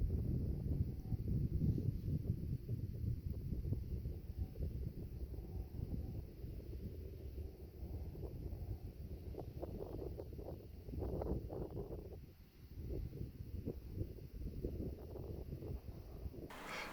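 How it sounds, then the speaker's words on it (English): Steady wind blows across the open Nevada desert off Highway 95, a low continuous rush with gusty swells. No traffic or voices break it, and it stays faint and distant throughout. "I was out there for several minutes with no cars passing me, nothing, just listening to the wind."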